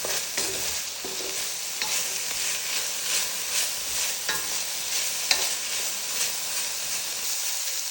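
Ingredients being stirred together with a splash of olive oil give a steady scraping, sizzling texture with periodic stirring strokes throughout, close and moderately loud, without any talk.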